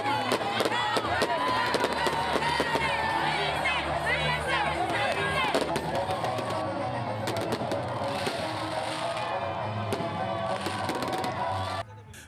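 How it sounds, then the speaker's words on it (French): A large crowd cheers and shouts amid sharp crackling and popping fireworks at a New Year's midnight celebration, dense and continuous, with voices throughout. "La commune doit abriter la cérémonie officielle des feux d'artifice."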